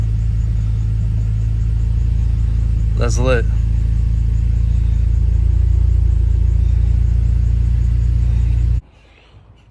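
A car engine idles steadily with a low, even rumble after a first-crank start, following a battery relocation and charge harness install; a short voice speaks over it midway, and the engine noise cuts off abruptly near the end.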